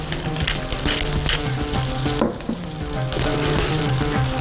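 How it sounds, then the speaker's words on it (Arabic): Food fries loudly in a pan with a dense, continuous sizzle and crackle, briefly dipping in the middle before it swells again. "وهنحمر هنا"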